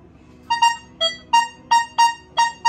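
A metal detector sounds its response to a copper coin, giving seven short beeping tones in a quick, even rhythm. Each beep is clear and loud against quiet background hiss.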